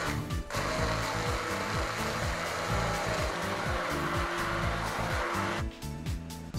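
Blender purées tomato, bread crumb, oil, salt and half a garlic clove for porra antequerana, a loud close motor roar with a rapid grinding pulse that runs steadily before cutting out near the end.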